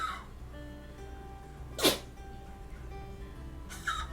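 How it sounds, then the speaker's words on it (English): A small dog gives a single sharp, sneeze-like cough midway through a quiet indoor room, with a second softer burst near the end over a low steady hum. "My little dog over here is coughing."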